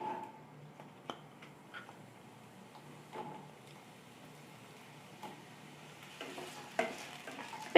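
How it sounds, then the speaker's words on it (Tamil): Long-cut brinjal pieces fry in oil in a pan, a quiet, low sizzle punctuated by sparse clicks and scrapes of a spoon, growing busier toward the end. "இப்போ இந்த எண்ணெயிலே நம்ம இந்த கத்திரிக்காய்களை நல்லா வதக்கி எடுத்துக்கணும்."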